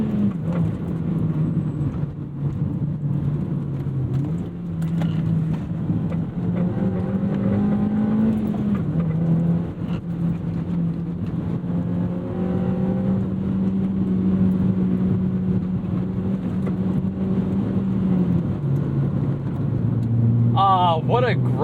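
A 2009 Honda Fit driven on a race track, its engine droning steadily and close with pitch shifts as it revs through corners, someone talking over it much of the time.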